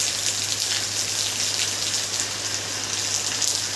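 Steady rain falls on a surface where ducks are bathing, a dense even hiss of drops with a low constant hum underneath, with no voices.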